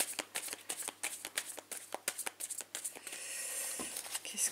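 A deck of tarot cards being cut and shuffled close up, with a rapid run of crisp riffling flicks and papery slaps, then a steadier brushing shuffle toward the end, no talk.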